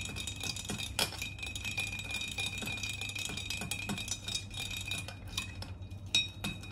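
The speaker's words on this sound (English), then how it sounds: "And then we give it a stir, trying to melt as much of our coffee ice as possible" A spoon stirs a White Russian cocktail with coffee ice cubes in a glass, giving a steady run of light clinks and rattling knocks against the glass, close and fairly quiet, with no talking.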